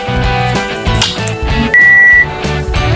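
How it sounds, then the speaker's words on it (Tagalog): An oven timer alarm sounds while lechon pork belly roasts, a single loud sustained electronic beep rising over steady kitchen hum and clatter. "nag-a-alarm na siya. So that means, end ng 20 minutes ko."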